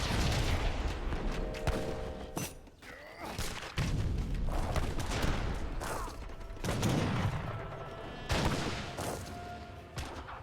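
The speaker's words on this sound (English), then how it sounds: "Heavy Cannon does take a good shot there." Heavy cannon fire in the Age of Empires 3 real-time strategy game, repeated booming shots and thuds over dense battle noise with game effects, loud and continuous through the clip.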